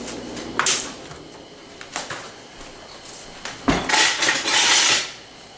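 A hot frying pan with a little salad oil and tongs clanks and scrapes in a few sharp bursts, with utensils clicking against the pan and a brief sizzling rush near the end.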